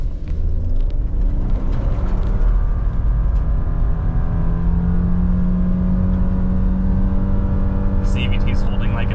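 A 2023 Subaru Forester Wilderness with a CVT accelerates hard from 0 to 60, its engine droning loud and close at a steadily held pitch that climbs gradually, with a brief rattle near the end.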